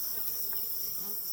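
Honeybees flying in and out of a hive box while a late-season caught swarm is transferred outdoors, a faint steady insect buzz hovering throughout with no talk.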